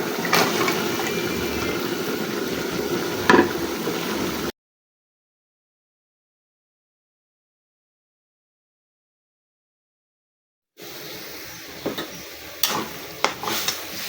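Potato, tomato and spring onion sauté in a pan for a prawn chorchori, a low, steady sizzle with stirring clatters, interrupted midway by a long stretch of silence.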